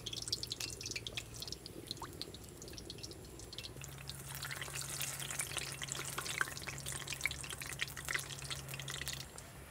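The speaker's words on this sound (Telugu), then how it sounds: "నూనె వేడెక్కగానే ఇలా బజ్జీలు ఒకదాని తర్వాత ఒకటి వేసుకుని బాగా ఒకే కలర్ వచ్చే వరకు కాల్చుకుందాం." Raw banana bajji fry in hot oil, a steady crackling sizzle with drips and bubbling that grows busier and louder partway through, with no talking.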